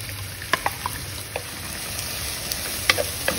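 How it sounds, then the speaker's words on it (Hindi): Chopped onions frying in about four tablespoons of hot oil, a steady low sizzle with scattered sharp crackles and light stirring taps, close and fairly quiet, no one talking. "अब हम इसके अंदर चॉप किया हुआ प्याज डाल देंगे।"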